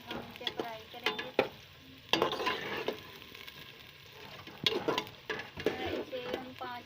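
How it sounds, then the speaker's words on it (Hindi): Okra frying and being stirred in a pan, soft sizzling broken by irregular scraping strokes and a few louder clatters, fairly quiet and close, with no talking. "हम इसे फ्राई करेंगे।"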